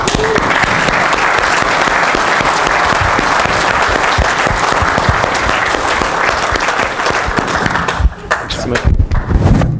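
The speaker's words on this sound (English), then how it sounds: "I want to give a warm round of applause to Darryl and Imran Clark." Audience applause at a business seminar event, a loud, dense roar of many hands clapping continuously for nearly ten seconds, thinning toward the end with a few voices.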